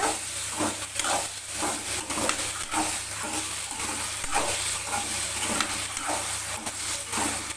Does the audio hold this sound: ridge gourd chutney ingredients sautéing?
yes